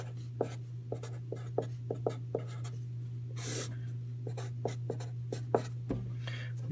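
Pen scratching out a formula by hand on paper, a steady series of short distinct strokes and taps close up over a constant low electrical hum, no talking.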